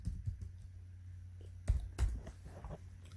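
Keys clatter on a computer keyboard in a steady, close run of light taps, with a few louder strokes standing out and a low background hum underneath.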